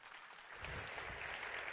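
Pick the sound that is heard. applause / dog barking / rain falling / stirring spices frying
applause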